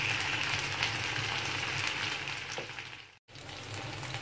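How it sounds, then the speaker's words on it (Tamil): Taro root pieces fry in oil in a nonstick pan over low heat, giving a steady close crackling sizzle with scattered pops, broken by one very short gap near the end. "நம்ம போட்ட சேப்பங்கிழங்கு நல்லா ஃப்ரை ஆகிட்டுருக்கு பாருங்கள்."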